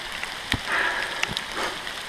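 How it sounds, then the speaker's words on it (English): Steady rain on a forest trail in the Black Forest, a soft broadband patter with a few sharper drops and rustles close by, no talking. "this rain just will not stop."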